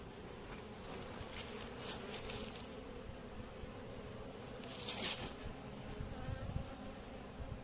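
Honey bees buzz steadily in an open hive with a caged queen and fresh brood, a dense near hum with brief louder swells of wingbeats, no voices.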